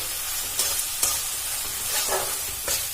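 Spiced masala frying in oil for a vegetarian cabbage curry is stirred in the pan: a steady, close sizzle broken by a few sharp scrapes and taps of the spoon, with no talking.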